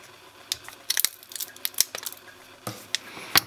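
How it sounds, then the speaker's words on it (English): Gyro unit packaging is cut open with a series of sharp, close clicks and snips and brief plastic crackles in irregular bursts, quiet between strokes and without talk. "I'm gonna cut this open."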